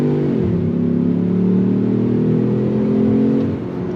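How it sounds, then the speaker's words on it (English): A 2025 Ford Bronco Sport Badlands with all-wheel drive accelerates on throttle, its engine heard from inside as a steady, loud drone that rises in pitch through a shift before easing off near the end. "On throttle, all-wheel drive, getting the power to the ground."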